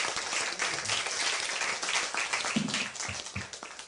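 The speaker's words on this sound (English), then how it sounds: "Another round of applause," Audience applause at a debate, a steady roar of many hands clapping for a few seconds, fairly close, with a brief low voice murmuring underneath near the end.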